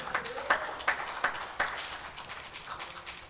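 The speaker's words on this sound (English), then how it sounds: "Somebody shout a hand clap for God" A church congregation during a sermon claps hands: about five sharp, separate claps in quick succession, then scattered softer claps fading into the room's echo.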